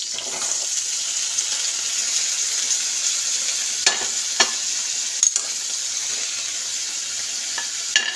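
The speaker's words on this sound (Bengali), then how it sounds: "তো এই সবজিগুলো হালকা করে ভাজবো, তো বেশি ভাজার দরকার নেই।" Vegetables frying lightly in a pan for a vegetable soup, giving a steady bright sizzle with occasional scrapes and clacks from stirring, close and continuous throughout.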